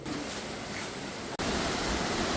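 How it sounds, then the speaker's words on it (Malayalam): A waterfall at Vithura in Thiruvananthapuram runs with strong flow after rain. It makes a close, steady, dense roar of rushing water with no voices, broken only by a split-second dropout midway. "അങ്ങനെ നടന്ന് നമ്മൾ ആ മനോഹരമായ വെള്ളച്ചാട്ടത്തിൻ്റെ അടുത്തെത്തിയിരിക്കുകയാണ്"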